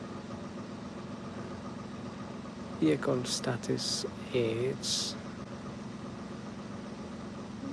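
A 2015 Mini F56 engine idles steadily while warming up, a low, even hum that continues under a brief stretch of voice prompts from the car's system.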